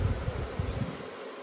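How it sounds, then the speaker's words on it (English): A low, fluttering buzz of honey bees around hives, fairly faint, that fades out toward the end. "there's been a lot of activity of bees around these hives"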